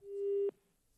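A telephone busy signal after a call on a TV phone-in line disconnects: one faint, steady tone lasting about half a second, cut off abruptly with a soft click.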